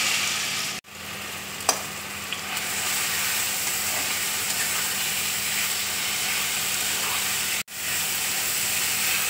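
Pumpkin pieces fry in melted ghee in a wok while making pumpkin halwa, a loud, dense, continuous sizzle with two brief cutoffs and a faint clink near the start.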